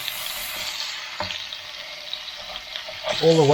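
Chicken and spinach stir-frying in a pan, a soft sizzle with occasional scraping stirs, ending in a brief louder rattle or splash.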